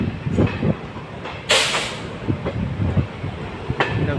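A train on the Dehradun–Haridwar railway in India, with a loud continuous rumble, rhythmic wheel clatter and a sudden bright hiss or squeal burst, heard from close by on board.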